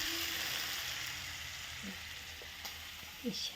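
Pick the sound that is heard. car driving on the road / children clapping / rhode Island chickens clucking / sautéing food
sautéing food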